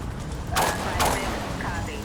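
A burst of gunfire in the GTA V police mod LSPDFR: two loud, sharp shots about half a second apart, set against steady game ambience with someone talking over it.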